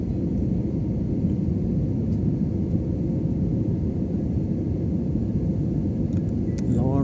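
Steady loud rumble of a passenger airliner's engines and airflow during a night landing approach into Pune, continuous and close inside the cabin, with a faint rising tone near the end.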